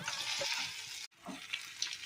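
Eggplant goes into a pan of fried spice mixture of garlic and tomato, bringing a bright, hissing sizzle with a few stirring knocks, moderately quiet and broken by a brief dropout midway.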